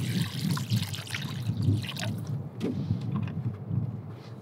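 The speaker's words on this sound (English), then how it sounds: "We're just gonna rinse our clams real good." Razor clams rinsed in water at the beach, with steady trickling and sloshing water throughout and a few brief knocks of shells, close and fairly loud.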